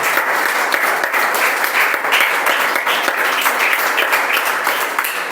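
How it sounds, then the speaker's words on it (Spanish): A church congregation applauds loudly and steadily during a Spanish-language sermon, dense sustained clapping filling the room with no talk on top. "Vamos, si vamos a aplaudir a Él. Hágalo bien fuerte a Él"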